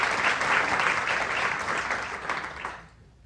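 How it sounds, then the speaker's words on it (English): An audience at the Nebraska Storytelling Festival applauds a storyteller, a brisk burst of clapping from many hands that holds steady, then tapers off and ends abruptly after about three seconds. "Can we give one more round of applause to our storyteller?"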